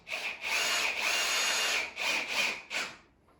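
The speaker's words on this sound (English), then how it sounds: "I just find it easiest to drill these in from the top like this." A power drill whines in several short bursts, one long run and then a few brief pulses, as it drives screws from the top into a wooden Montessori climbing triangle up close.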